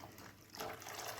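Water poured into a cooking pot while making Punjabi kadhi pakora, a soft continuous splashing and trickling pour that swells partway through, close by with no talk.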